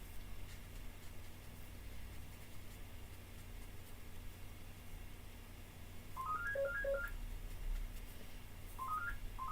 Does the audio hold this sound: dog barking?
no